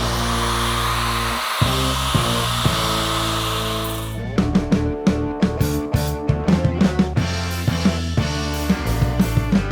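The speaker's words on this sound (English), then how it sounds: "We got the rebar cut." A power tool cuts through steel rebar with a loud, continuous grinding whine, then breaks into a series of sharp rhythmic bursts and clatters as the cut continues, close by and without talk.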